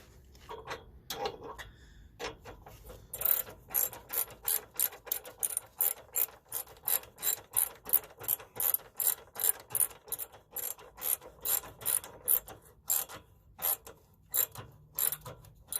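A hand ratchet clicks rapidly and steadily while tightening bolts that fasten N-Fab side steps to a 2022 Jeep Gladiator frame, with dozens of crisp, evenly spaced pawl ticks and a couple of short pauses.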